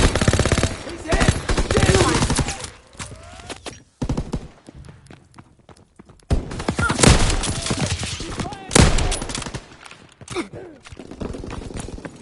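Gunfire rattles in Call of Duty WW2: loud, close automatic bursts and single shots come in choppy waves, with shouted voices between them.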